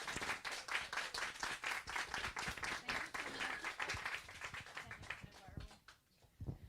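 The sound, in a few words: audience applause after book talk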